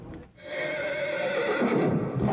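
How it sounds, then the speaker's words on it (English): Akhal-Teke horse in Moscow giving a loud, close neigh that rises from a brief dip and holds as a long, strained whinny. "As you can see, this is a horse."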